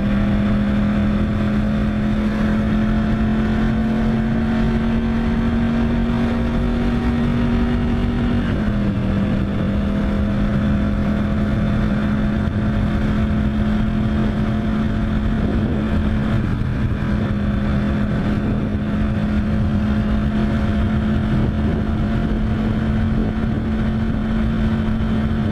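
A car engine drones steadily while driving in traffic, a continuous loud hum with a slight pitch shift partway through as the vehicle changes speed, with no talking.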